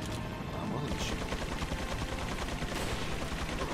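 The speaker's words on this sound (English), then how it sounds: "I'm going to shoot." Rapid gunfire from Resident Evil 4 rattles in dense, continuous bursts, loud and close throughout, like sustained automatic shooting.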